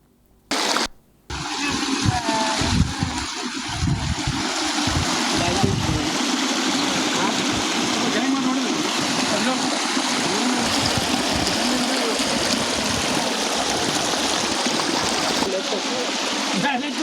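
Water gushes from a breach in the Tungabhadra Dam canal near Koppal, making a loud, continuous rushing roar that follows a brief burst of noise at the start, with voices faintly mixed in early on.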